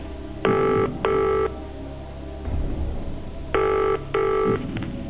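A landline rings out for a phone-a-friend call on a TV quiz show, two pairs of double rings separated by a short pause, fairly clear over faint studio background.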